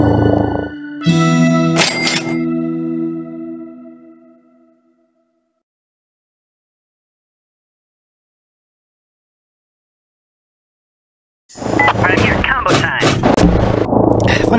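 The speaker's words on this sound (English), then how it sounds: "this cannon was actually built to fire humans" A booming cannon blast in the Henry Stickmin Collection video game with a long ringing decay fading into silence, then a burst of loud, crackling game sound effects.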